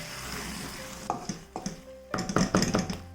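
Chicken curry stirred in a pot with a utensil, giving a few scraping knocks against the metal and soft sizzling, getting busier and louder toward the end, with no talking.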